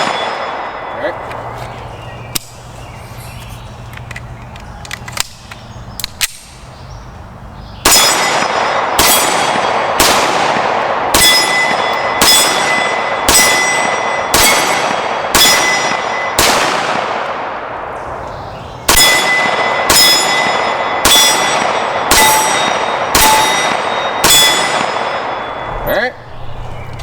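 Taurus PT92 pistol fired at steel targets: about a dozen loud, close shots, each followed by a bright metallic ring that fades. They come in a steady run after a quieter opening with faint noises.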